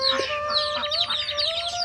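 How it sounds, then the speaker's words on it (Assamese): Chickens kept at a farmhouse cluck in short, close bursts, with a brief run of rapid calls over a faint steady background hum. "ওপৰত আছে মুৰ্গী বান্ধি ৰাখিছে বাৰু,"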